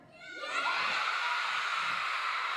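A school audience at a music and dance concert erupts in loud, sustained screaming and cheering, a dense wall of young voices that swells quickly and holds steady.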